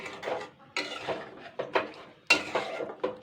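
Spoon scraping and knocking against a pan while potol kalia is stirred with added water, a string of close, uneven clatters and scrapes with short pauses between strokes.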